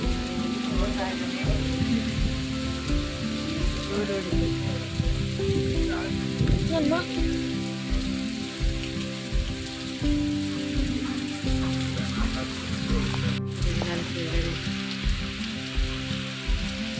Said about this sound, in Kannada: ಮಳೆ ಬೀಳ್ತಾ ಇದೆ ನೋಡಿ.